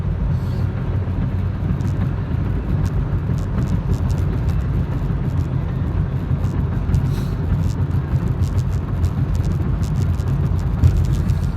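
Steady road traffic rumbling past at moderate distance, a continuous low engine and tire drone with no clear breaks and no voices.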